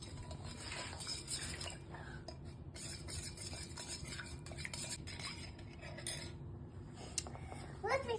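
A utensil stirs salt into water in a container, making continuous quiet scraping and light clinking over several seconds at close range.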